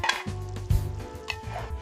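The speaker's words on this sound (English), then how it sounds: "Turn up the heat, add the corned beef, break it up, then stir in the ketchup and black pepper" Corned beef is stirred with ketchup and black pepper in a hot pan, with a few close scraping stir strokes over a soft sizzle.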